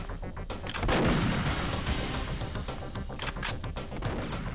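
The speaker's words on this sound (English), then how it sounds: "You're shooting me." Rapid, heavy gunfire from the video game Perfect Dark on Nintendo 64, loud and continuous bursts that go on for several seconds with no talking.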